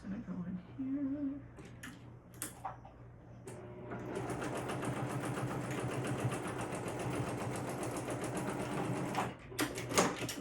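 Sewing machine stitching a crossbody bag's lining, a steady rapid mechanical whir running for about six seconds after a few short starts and clicks, then stopping with brief handling knocks at the end.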